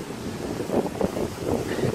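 Strong wind blowing outdoors beside the water in stormy weather, a loud, continuous buffeting rumble that swells in gusts across the two seconds, with no voices.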